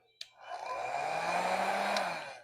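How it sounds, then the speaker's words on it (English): A click, then a hair dryer on its low setting whirs up into a steady, moderate airflow hum for about two seconds before winding down, blowing on acrylic pour paint. "the first thing I do is blow it out a little bit with a hairdryer"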